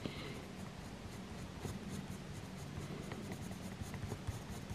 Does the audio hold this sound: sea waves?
no